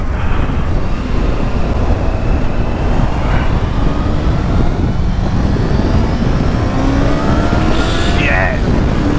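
Honda Hornet 600 motorcycle accelerating on a first ride, with a steady loud engine drone and rising tones as the revs climb, and a brief whine near the end.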